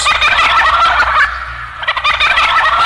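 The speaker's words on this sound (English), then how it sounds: "The great gobble of the Big Boss Bird sounds like this." A loud, close turkey gobble repeats in quick warbling bursts, filling the short clip with rapid, throaty rattling calls.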